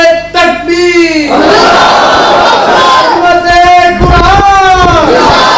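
Crowd of people chanting a takbir slogan in unison, loud and close, with a leading voice calling first and the massed voices answering in a sustained roar.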